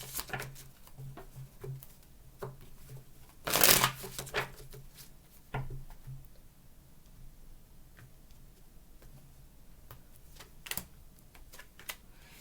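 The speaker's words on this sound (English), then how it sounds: "More shuffles, please." Tarot cards being shuffled by hand, giving soft repeated riffling and flicking sounds with one louder burst of shuffling, close and moderately quiet.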